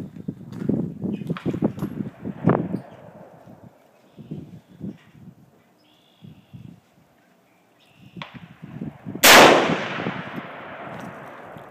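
A single .50 BMG rifle shot from a Ferret rifle cracks loud and close, a sharp broadband blast that rings out briefly, preceded by shuffling, clanking handling noises and low murmuring voices.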